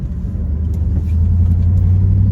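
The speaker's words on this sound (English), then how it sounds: "You just can't beat the sound of a nice burbling V8." A V8 car engine burbles steadily while driving, a loud, continuous low rumble that holds close and even throughout with a slight swell partway through.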